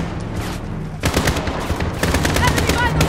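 Rapid automatic gunfire in the Call of Duty: Modern Warfare (2019) campaign, dense bursts that pick up after the first second and keep rattling loud and close, with no speech over them.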